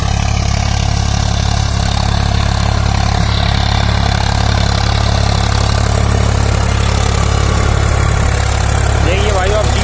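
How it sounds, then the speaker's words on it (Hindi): A Swaraj 744 XT tractor engine runs loudly and steadily close by while deep-tilling, a constant low chugging drone with no pauses. "मुझे स्वराज ट्रैक्टर बहुत पसंद है, और स्वराज की जो आवाज़ है"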